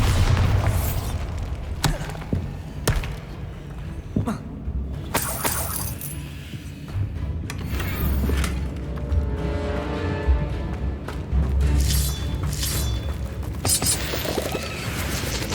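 Bombarder spell blasts in Hogwarts Legacy, several heavy booming detonations with crashing, shattering debris and clattering impacts spaced through the stretch, loud and close with little speech.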